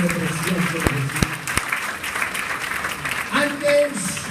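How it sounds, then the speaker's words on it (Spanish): Congregation applause during a church service, moderate clapping mixed with voices, with a few sharp thuds and some speech-like tones over it. "Otro aplauso fuerte para el Señor Jesús."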